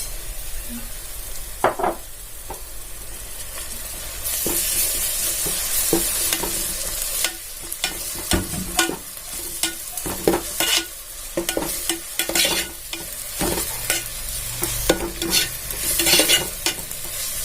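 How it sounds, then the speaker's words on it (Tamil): Ginger and garlic fry in peanut oil in a pan, a steady sizzle broken by frequent scraping stirs that come in quick bursts, close and fairly loud. "நல்லா இஞ்சி பூண்டு பொரியிற வரைக்கும் வெயிட் பண்ணணும்."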